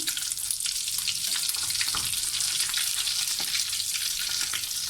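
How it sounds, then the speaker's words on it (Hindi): Potato and egg kababs coated in breadcrumbs and sesame seeds shallow frying in oil, a dense steady sizzle and crackle with no talking, even and continuous throughout. "आपने बहुत ज़्यादा इसको डीप फ्राई नहीं करना है, शैलो फ्राई"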